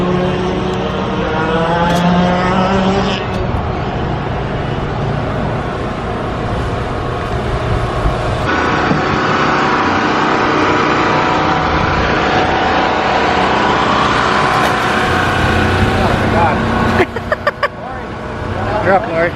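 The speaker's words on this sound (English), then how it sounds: "This might be as fast as the shifter kart goes today." CRG shifter kart engine running at a track, a continuous loud buzzing drone with shifting pitch that dominates throughout, while people talk nearby beneath it.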